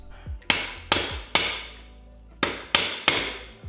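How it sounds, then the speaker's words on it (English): A hammer strikes a screwdriver against a part of an Indian Chief motorcycle, giving six sharp metallic taps, three in quick succession, a short pause, then three more, close by with no talking. "I took the hammer and the screwdriver"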